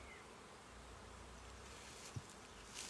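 Honey bees buzz at an open hive in a constant, dense drone up close, steady throughout, with one brief soft knock partway through.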